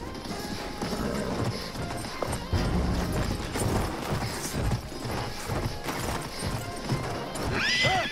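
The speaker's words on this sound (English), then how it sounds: "Yes, we got the horse." A horse in the video game Battlefield 1 gallops with steady clip-clop hoofbeats amid battlefield clatter, then gives a sharp neigh near the end, all fairly close and moderately loud.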